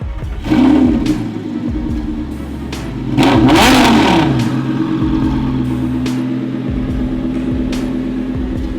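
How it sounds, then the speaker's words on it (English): An Audi R8 V10 with a Valvetronic Capristo exhaust revs up twice, rising sharply in pitch and falling back to a rough, rumbling idle, close by with no talking. "it already has a Valve Capristo exhaust system on it"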